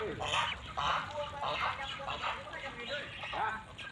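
Flock of twenty ducklings, not yet feathered on the wings, quacking and peeping together at close range in a continuous, busy chorus over a background hum.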